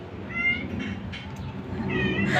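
A cat meows a few times, drawn-out and fairly close, with a faint outdoor background.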